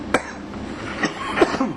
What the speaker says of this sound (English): I like totally coughed out the smoke like a shit ton of smoke